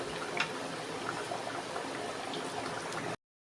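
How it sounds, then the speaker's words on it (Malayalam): A pot of chicken curry bubbles steadily on the stove, giving a soft, continuous burble of small pops at moderate level, heard alone for a few seconds before cutting to silence. "ചിക്കൻ കറി ഇങ്ങനെ കിടന്ന് തിളയ്ക്കുന്ന കണ്ടോ."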